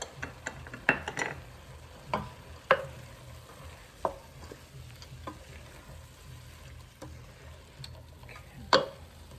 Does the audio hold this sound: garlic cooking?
yes